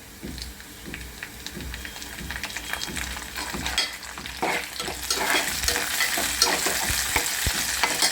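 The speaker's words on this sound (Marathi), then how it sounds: "यामध्ये आपण आता कडीपत्त्याची पानं टाकणार आहोत" Curry leaves sizzle in hot oil alongside frying onion for a drumstick and corn vegetable dish, a steady close crackle with stirring scrapes that grows louder midway.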